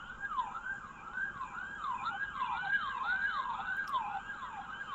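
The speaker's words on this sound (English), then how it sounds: "Some sirens heard there coming through our cam feed." Emergency sirens picked up by a live camera feed in Bahrain after reports of an explosion, wailing in a steady rising-and-falling cycle about twice a second, moderately distant and heard alone over faint background noise.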